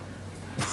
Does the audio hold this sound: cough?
yes